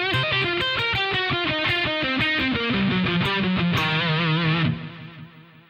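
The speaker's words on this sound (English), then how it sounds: "And when you combine it with the first part of the lick, it should sound like this." Heavily distorted electric guitar runs through a fast lick, rapid picked notes ending on a held, vibrato note that fades out, loud and alone.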